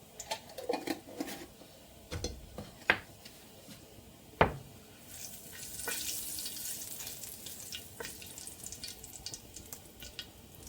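Cardamom pods and a cinnamon stick fry in oil in an open pressure cooker, a faint, steady sizzle broken by a few sharp knocks and clatters of a utensil, with no one speaking.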